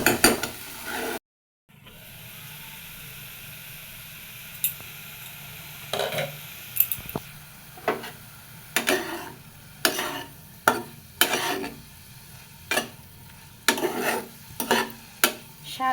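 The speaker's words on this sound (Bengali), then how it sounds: "দিয়ে এবার পাতাটা খুব ভালো মতো ভেজে নিব।" Bottle gourd leaves stirred and fried in a pan, with a soft sizzle underneath and a series of sharp spatula scrapes and knocks against the pan coming in an irregular rhythm after a short silent gap.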